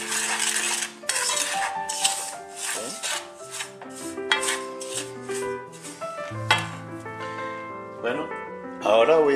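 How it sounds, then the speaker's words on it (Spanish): A utensil stirs and scrapes ingredients in a bowl for coconut dulce de leche, giving repeated clinks and rubbing strokes up close, with a voice talking over them. "Mezclamos los ingredientes antes de echar la leche evaporada."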